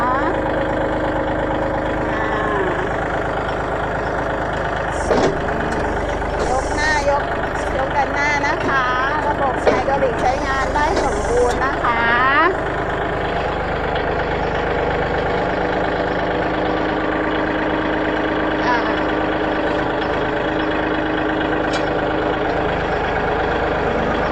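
A Kubota L3608SP tractor from 2015 with a front blade and a rotary tiller runs steadily nearby, its diesel engine a constant low drone while it drives forward and back, with clanks and a brief squeal, as someone talks over it.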